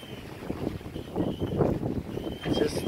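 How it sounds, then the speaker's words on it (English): A sailboat runs under spinnaker off Kangaroo Island, South Australia, with wind buffeting the microphone and water rushing past the hull, while people talk nearby. "Sailing along with just the spinnaker."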